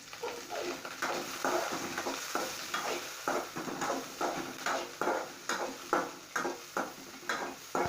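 Mustard seeds and other ingredients are sautéed in a pan for tamarind puli charu, with a soft sizzle under regular, rhythmic scrapes of stirring about twice a second.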